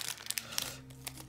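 Foil wrapper of a Pokémon Sword & Shield Battle Styles booster pack crinkling as someone struggles to open it, a quiet run of close, short crackles and rustles with no talk.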